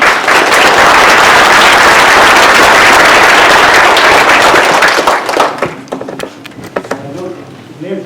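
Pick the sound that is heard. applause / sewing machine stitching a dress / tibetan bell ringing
applause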